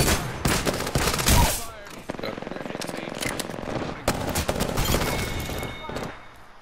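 Rapid automatic gunfire in Apex Legends, loud dense bursts of shots rattling close by, broken by short pauses, with a voice speaking briefly amid the shooting.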